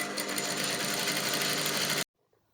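A zigzag sewing machine hems a swimsuit bodysuit with a fast, steady whirring stitch for about two seconds, then stops dead into near silence.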